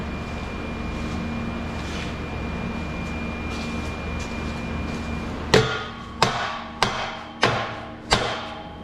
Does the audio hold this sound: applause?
no